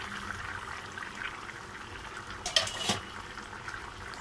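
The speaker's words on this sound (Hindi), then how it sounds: "हम इसे अभी ढक्कन हटाएंगे।" A lid is lifted off a cooking pot of rohu fish egg curry with potatoes, giving a brief metallic clatter over the soft bubbling of the simmering pot, close and fairly quiet.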